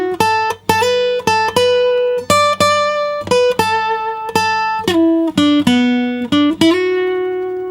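An acoustic guitar plays a slow solo lick from a song, a string of clear, ringing single notes picked one after another, close and loud with no voice.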